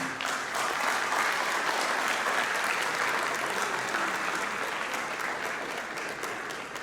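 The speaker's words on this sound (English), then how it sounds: "Now you keep clapping." Sustained applause from a dinner audience at an awards and conference night, steady and full throughout, tapering slightly toward the end.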